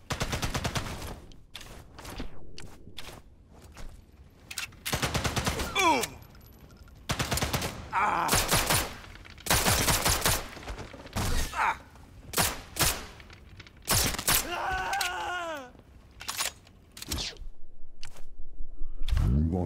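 Gunfire in a sniper video game, with bursts of shots and rapid strings of rounds separated by short pauses, fairly close and loud, with talk in between.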